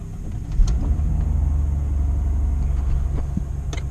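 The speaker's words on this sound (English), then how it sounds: "Go ahead, warm up the car." A car engine warming up in the dark, a steady low idling rumble held throughout at close range, with a brief clunk near the start and no talk.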